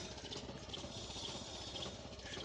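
Small Mitsubishi engine on a two-wheel walk-behind tiller with furrowing discs runs steadily during a test start, a continuous broadband mechanical chug heard close and loud throughout with no pauses.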